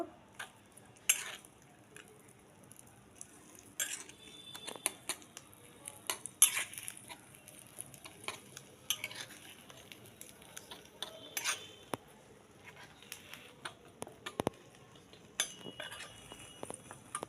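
Noodles with salt being stirred in a frying pan, giving repeated utensil scrapes and clinks against the metal at an uneven rhythm over a faint sizzle, close and moderately loud.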